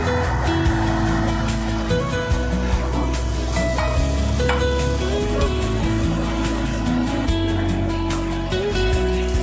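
Fried prawns dropped into a simmering coconut milk curry, giving a continuous loud sizzle with stirring and clattering utensil knocks throughout, no voices.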